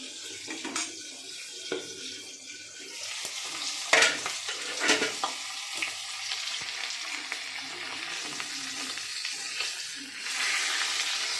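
Fish heads frying in oil in a pan, with a moderate sizzle and scattered stirring and clattering sounds, close by and uneven in loudness.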